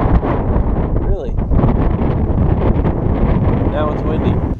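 Outdoors, wind blows across the microphone as constant, loud, rumbling buffeting that fills the whole stretch.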